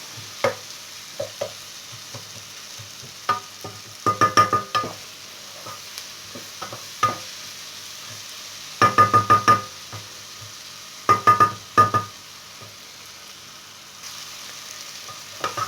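Onions and bell peppers sauté in a pan, a steady sizzle running throughout with scattered clicks and clusters of knocks from a utensil stirring against the pan.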